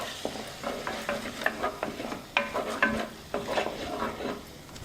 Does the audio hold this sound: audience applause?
no